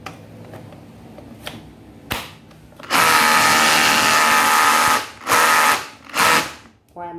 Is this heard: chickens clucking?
no